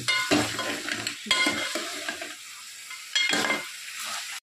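A spoon stirs goat head curry in a sizzling pan in three distinct bursts of scraping and frying hiss, each fading into quieter sizzle before the next stroke.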